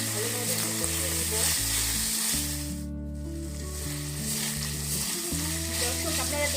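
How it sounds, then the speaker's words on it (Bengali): Jackfruit pieces sauté in a pan for a taro stolon and dried fish dish, giving a dense, steady sizzle close up with a brief dip midway, under a droning low background hum, no talking. "সাথে কাঁঠাল মুচিগুলো আমি ভালোভাবে কষিয়ে নিব।"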